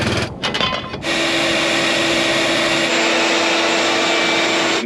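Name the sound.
vacuum during dryer vent lint cleaning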